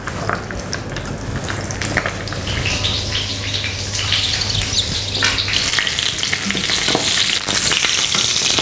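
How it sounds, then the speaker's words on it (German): Steady, close sizzling and crackling of quail frying in clarified butter in a hot pan, with occasional scraping and stirring sounds; no one speaks. "Und geben sie in eine heiße Pfanne mit Butterschmalz. Braten sie ringsum schön an."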